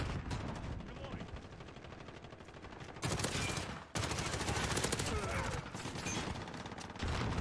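Rapid bursts of video game gunfire crackle continuously, with automatic fire coming in dense runs and growing louder in the second half, heavy and close throughout.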